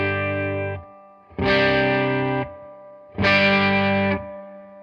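Electric guitar through a Mosky LM741 overdrive pedal on its 308 setting: three sustained, heavily distorted chords, each held about a second with short gaps between, loud and alone with no talking.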